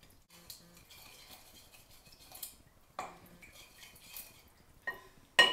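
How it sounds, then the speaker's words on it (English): A spoon stirs honey, salt and olive oil in a bowl for whole wheat bread dough, with intermittent clinks and scrapes against the bowl separated by quiet pauses, close and sparse. "So after you've got the honey, salt, and olive oil in there, you want to give it a good stir."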